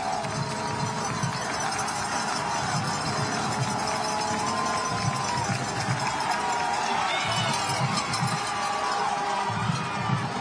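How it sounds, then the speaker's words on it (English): A crowd roars and cheers in the stands at a Ravenwood High School football game during a third-down play, a broad steady wall of noise with a voice talking over it throughout. "Listen to the crowd here at Ravenwood High School"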